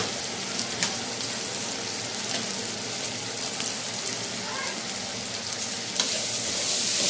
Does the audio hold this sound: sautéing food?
yes